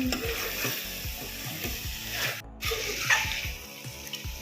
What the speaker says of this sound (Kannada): ಈ ಥರ ಫ್ರೈ ಮಾಡ್ಕೋಬೇಕು.